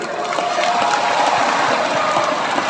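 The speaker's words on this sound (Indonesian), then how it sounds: "berikan aplaus buat Orgasmic" Audience applause at a seminar in ICE BSD, Tangerang, a dense continuous wash of clapping held at a steady, fairly loud level for the whole stretch.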